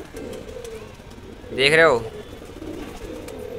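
A kagzi pigeon on a rooftop gives a single loud, rolling coo near the middle, with someone talking under and around it and faint background ambience.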